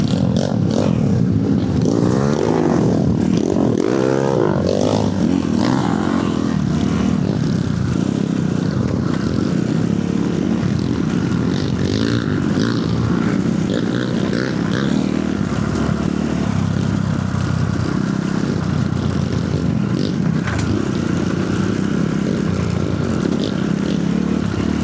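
Motorcycles ride past continuously on an off-road trail, engines droning and revving near and far amid steady road rumble, with no clear voices.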